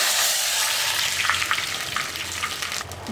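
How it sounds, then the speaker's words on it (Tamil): Mustard seeds frying in hot oil, a loud close steady sizzle with faint crackles throughout. "எண்ணெய் காஞ்சிடுச்சு கடுகு போட்டுக்கலாம்"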